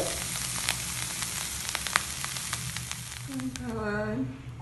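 Dried small shrimp, udang rebon, dry-frying in a pan with a steady close sizzle and occasional scraping clicks, then a brief voice near the end.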